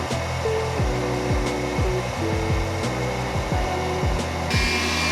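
An electric mixer whisks Italian meringue for a lemon meringue tart at reduced speed while hot sugar syrup is poured in thin streams, giving a steady motor whir with repeating pitch sweeps, close and continuous, with no talking.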